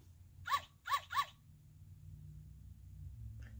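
Three quick puppy barks from a children's sound book, evenly spaced in the first second and a half, followed by quiet low rumbling background.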